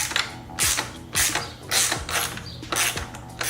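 Ratcheting socket wrench clicks in short repeated bursts, close up, as a 17mm socket screws a shorter frame slider onto a motorcycle frame, with metallic creaks between strokes.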